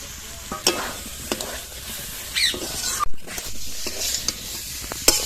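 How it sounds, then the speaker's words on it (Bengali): Boiled potatoes and green peas frying in a spice masala in a pan, with a steady hiss of oil broken by sharper sizzles and the scrape and clatter of stirring at close range. "মশলার মধ্যে আলুটা খানিকক্ষণ ভেজে নিয়েছি"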